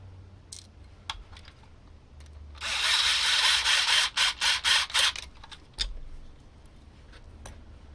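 A small electric screwdriver drives screws into a DJ turntable tone arm, heard as a close whirring burst followed by several short, quick pulses, with faint handling clicks before and after.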